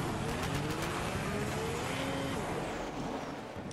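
A hijacked car drives in Borderlands 3, its engine a steady, loud roar with road rumble throughout, easing slightly toward the end.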